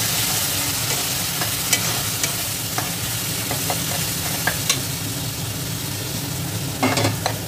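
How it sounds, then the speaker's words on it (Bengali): Chopped ginger and dal stirred in hot frying oil, a steady close sizzle with scattered scraping clicks of the spoon across the pan, no voices. "এরপর আদা কুচিটা তেলের মধ্যে ভালোভাবে নেড়ে চেড়ে আমি ডালটাও দিয়ে দেবো।"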